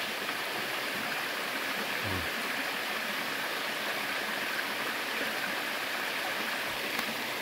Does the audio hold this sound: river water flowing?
yes